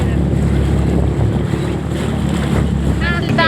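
A pleasure boat out on the lake at Cubbon Park's Bal Bhavan, with a steady low rumble of water and heavy wind buffeting the microphone, and faint voices in the background.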